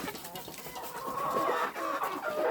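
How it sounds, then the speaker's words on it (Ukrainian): A broody hen and autumn chicks clucking and peeping together in an outdoor run as feed is thrown, a busy overlapping chatter of soft clucks and high cheeps, close by with no talking. "Кидаю куром, курчатам."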